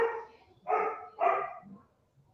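A dog barks three times in close succession, loud and near, with a soft whimper trailing off at the end.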